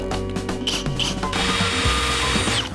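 A Makita drill bores through steel, a loud continuous grinding whine with rough metallic rubbing and pitch shifts as the bit bites, close and steady throughout.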